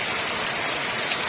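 Downpour of heavy cyclonic rain in the Sundarbans, a loud, even hiss of countless drops striking the ground close by, with nothing else audible.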